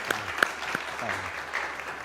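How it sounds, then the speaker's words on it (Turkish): A small audience applauding for Abdullah on a Turkish talk programme, a brief, fairly faint patter of clapping with a few sharper claps standing out and a low voice murmuring underneath. "O yüzden bir lütfen alkışlayalım Abdullah abi"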